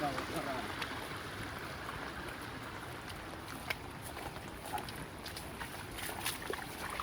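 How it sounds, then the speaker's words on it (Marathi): A small monsoon waterfall spills beside a forest shortcut path in the hills, giving a faint, steady rushing and splashing wash that runs on without a break. "हे बघा कसं आहे मिनी वॉटरफॉल एकदम शॉर्टकट दारवाज्यामध्ये वाटेमध्ये"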